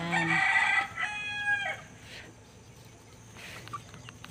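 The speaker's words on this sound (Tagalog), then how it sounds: "ang daming manok ng kuya ko" A rooster crows loudly and close by on a farm, its drawn-out call followed by a second shorter crow, then softer clucking from chickens and faint farmyard background.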